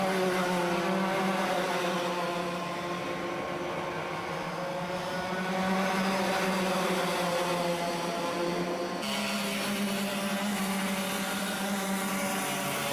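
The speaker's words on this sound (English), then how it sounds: "Five karts battling over 4th place" Several racing karts battle closely for position on a circuit, a steady, loud blend of high-revving small engines droning together without break, with a slight shift in pitch partway through as the pack passes.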